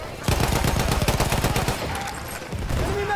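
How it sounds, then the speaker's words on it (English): An MG15 machine gun in Battlefield 1 fires a rapid, loud, sustained burst of closely spaced shots, followed by a brief lull and a few more shots, with game sounds around it. "Machine gun right there."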